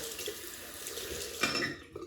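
Tap water runs steadily into a sink while shaving soap lather is worked up, a continuous near hiss with a brief louder splash partway through and a small spurt near the end.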